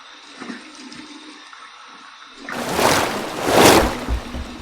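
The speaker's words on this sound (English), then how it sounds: "here's my cold water rinse" Quiet room tone, then cold running water from a tap gushes in and swells, splashing steadily close by for a couple of seconds.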